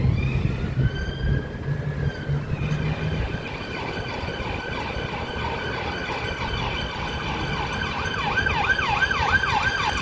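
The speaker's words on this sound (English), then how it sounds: "That's the sound of the police." A wailing police siren rises and falls in the distance amid central London traffic rumble, growing into a faster yelping pattern toward the end.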